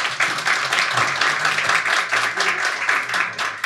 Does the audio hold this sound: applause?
yes